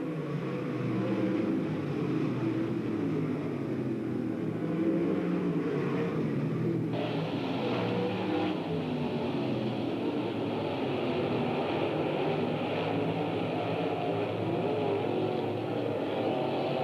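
Race cars lap Bedford Speedway in 1995, a continuous engine roar that swells and thickens midway as more cars pass at a moderate distance.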